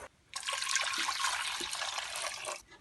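Water poured into a pot of Turkish soup, a continuous close splashing gush that starts abruptly, runs steadily for over two seconds, then cuts off, with no voices.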